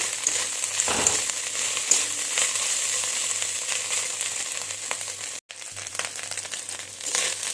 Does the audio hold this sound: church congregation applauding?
no